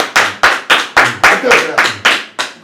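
Loud, close group clapping in a slow, even rhythm, about nine sharp claps spaced roughly a third of a second apart, with a voice briefly audible between them.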